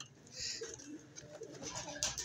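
Pigeons in a Pakistani bird keeper's loft give soft, low cooing calls that come and go across the moment, with some rustling and someone talking over them.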